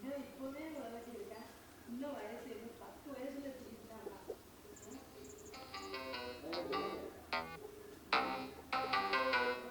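A Samsung Galaxy phone rings with an incoming call, a melodic tone that starts midway and repeats loudly after someone talks over low background hum.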